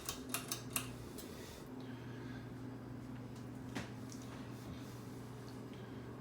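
A Hunter Original 42-inch ceiling fan is switched on at low speed: a few sharp clicks from the switch, then a faint, steady motor hum settles in with a low tonal drone and little else.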